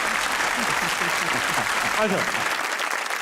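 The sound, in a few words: audience applause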